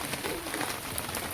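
Rain falls outdoors as a steady, dense hiss of drops on surfaces, loud and close, with no voices.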